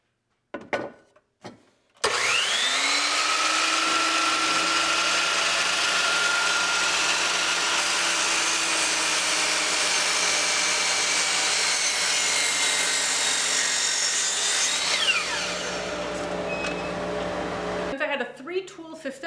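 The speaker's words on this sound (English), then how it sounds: "So here I can show you cutting a board." A saw cutting a board in a home workshop while the dust collection system with a blast gate roars steadily, a loud continuous whine that holds for about sixteen seconds before cutting off.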